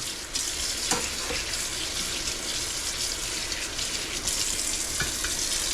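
Raw pork rinsed under a running kitchen tap: a steady hiss of flowing water with a few brief splashes and handling clunks, fairly close and without talk.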